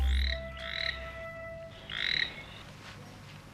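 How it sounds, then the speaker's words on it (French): A toad croaks close by, two or three raspy, pulsing calls spaced about a second apart, heard alone against a quiet background. "C'est un crapaud crache-mal."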